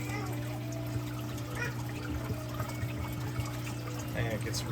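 Water trickles and flows steadily through a recirculating skimmer on a reef aquarium, a continuous close wash over a constant low pump hum, with faint speech in the background.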